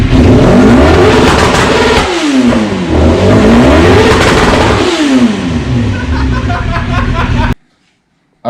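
A Suzuki GSX-R 750 motorcycle engine is revved hard, close up and very loud, rising and falling in several repeated revs before cutting off abruptly near the end.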